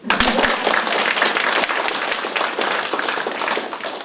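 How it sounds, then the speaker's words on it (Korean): Congregation at a church prayer meeting bursts into applause, dense steady clapping from many hands filling the room, with a few louder claps near the start and no talk over it. "박수 한번 드리세요"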